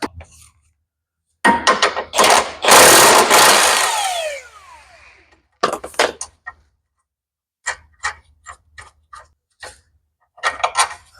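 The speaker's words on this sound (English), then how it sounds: "we're going to get these nuts off, and that should allow the front tension rod to come undone" Ratcheting clicks in quick bursts as a wrench works the front tension rod nuts off a Nissan 200SX S12 turbo hatch, with a longer, louder stretch of metallic rattling early on and sparse ticks later.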